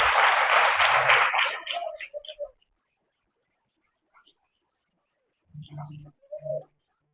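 A church congregation claps loudly for a short burst that fades into scattered claps and quiet, followed by a couple of brief low murmurs or voices near the end.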